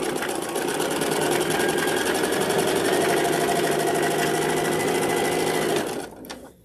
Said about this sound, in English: So I'm going to sew to about right here.